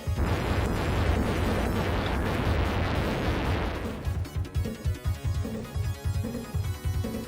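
In the Shinobi II video game, a ninja magic attack lets loose a long, roaring explosive blast. The roar then breaks up into a string of rapid thumping booms.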